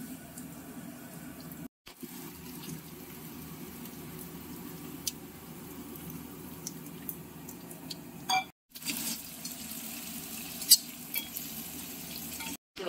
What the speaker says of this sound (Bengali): ভাজা হওয়ার পরেই দিয়ে দেওয়া হচ্ছে আদা আর রসুনের কুচো।